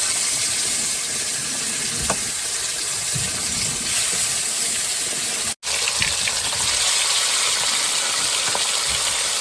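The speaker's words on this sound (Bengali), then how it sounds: "তেল গরম হয়ে গেছে বন্ধুরা, এবার দিয়ে দেবো মাছ।" Fish frying in hot oil gives off a steady, loud, close sizzling hiss that runs throughout, with one brief break near the middle.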